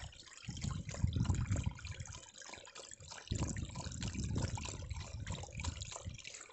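Water being drunk from a stream on a country path walk, a steady close babble and trickle with gulping surges in two main bursts, no talk.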